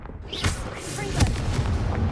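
A Confringo fire spell in Hogwarts Legacy lands as a loud, close, booming blast with a sharp crack and a thick rumbling tail, and a voice is faintly present.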